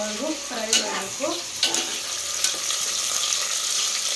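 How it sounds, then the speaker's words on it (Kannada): Onions frying in a pan with whole spices and bay leaf for mushroom biryani give a steady, close sizzle, with a few stirring scrapes early on. "ಈರುಳ್ಳಿ ಗೋಲ್ಡನ್ ಬ್ರೌನ್ ಆಗುವವರೆಗೂ ಫ್ರೈ ಮಾಡಬೇಕು."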